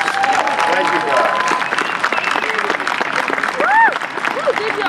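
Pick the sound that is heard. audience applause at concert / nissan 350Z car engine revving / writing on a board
audience applause at concert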